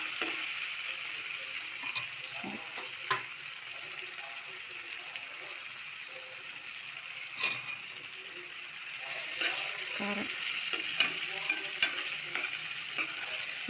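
Slightly underripe tomatoes fry in a pan with a steady, moderate sizzle, broken by occasional utensil clicks and stirring knocks. A faint voice murmurs now and then in the background.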